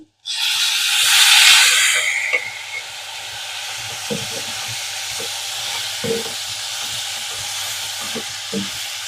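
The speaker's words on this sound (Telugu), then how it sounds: "పచ్చివాసన పోయేంత వరకు ఫ్రై చేసుకోవాలి ఇప్పుడు టమాటాలు వేసేసుకుందామండి" Tomatoes hitting hot oil in a pan for stuffed bitter gourd curry, a loud sizzling burst that settles into a steady frying hiss, with occasional scrapes and taps of a stirring spoon.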